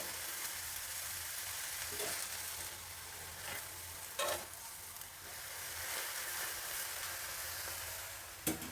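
Cooked amaranth greens and lentils are stirred together in a pan, giving a steady low sizzle with soft scraping strokes and a few slightly louder scrapes, close by and with no talking.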